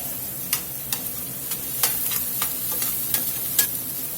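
Mushrooms and Marsala wine sizzle steadily in a pan, broken by sharp clicks and scrapes at irregular intervals as the food is stirred.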